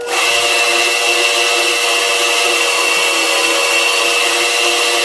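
A power saw, which may be a bandsaw or jigsaw, cuts through wood while making wall shelves, with a loud, steady high-pitched whine and rasp that runs unbroken throughout.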